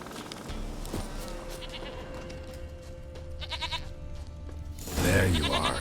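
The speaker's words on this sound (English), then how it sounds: "Here, goat." A goat bleating in the video game The Witcher 3: Wild Hunt, a few wavering bleats over quiet game ambience, with a louder, close cry near the end.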